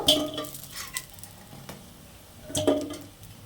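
Bora fritters sizzling in hot oil in a pan, a soft steady crackle broken by a few clinks of a spatula or utensil against the pan at the start and again later.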